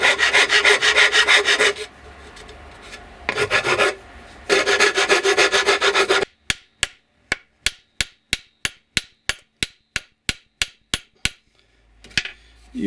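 Wood is scraped to fit the handle of a Soviet fitter's hammer from Volgograd, first as loud, close rasping strokes in bursts, then as a rapid series of sharp, evenly spaced knocks as the head is tapped on.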